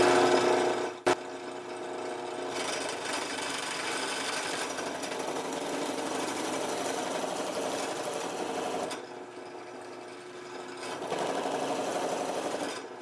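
A drill press whirs steadily as a 2 1/8 inch bit bores a flat spot, a continuous buzzing grind with a brief pause and shifts in load, close up.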